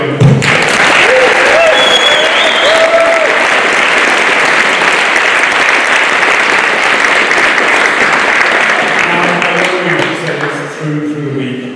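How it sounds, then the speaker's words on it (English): A big round of applause rises from an audience at a senior debate, dense, loud clapping sustained for about ten seconds, then thinning out and fading toward the end. "Let's give them a big round of applause."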